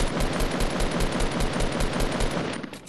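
Rapid automatic gunfire in Fortnite, aimed at the player, rattles out in dense, steady bursts of loud, close shots for nearly three seconds before easing off at the end.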